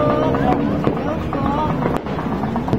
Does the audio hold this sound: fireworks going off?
yes